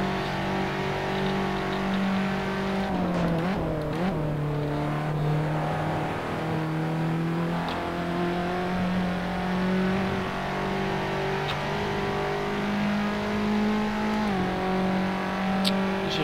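Race car engine at Monza in an online racing game, a steady loud droning whine that rises and falls in pitch through gear changes and corners, continuous throughout with no talk.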